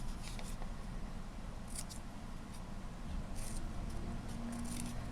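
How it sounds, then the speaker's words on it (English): Scissors snipping away extra pieces of paper while making a junk journal pocket, a few quick, crisp cuts close by in short clusters over steady low background noise. "We're gonna cut these extra pieces out."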